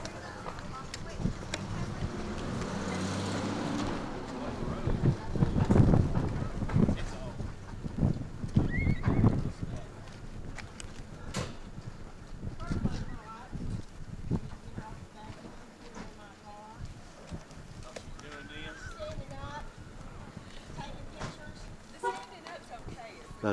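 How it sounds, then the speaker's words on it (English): A herd of wild horses near Mesa Verde in the Four Corners, with hooves thudding and clopping and a short whinny, heard outdoors under people chatting throughout. "Bunch of them. Wild horses."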